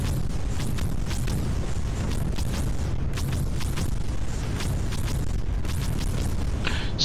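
Repeated muffled booms of explosions in the video game Creeper World 4, a rapid irregular series of bursts over a dense low rumble, with no talk.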